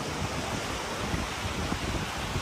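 Ocean surf at the Magpupungko rock pools in Siargao rolls in as a steady, dense wash of breaking water with constant wind-blown roar, loud and close with no clear gaps.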